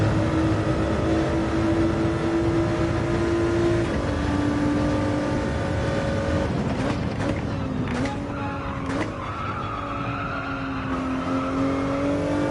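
A race car in a sim racing game screams at high revs with steady engine drone, pitch shifts through gear changes and several brief tire squeals midway, loud and continuous throughout.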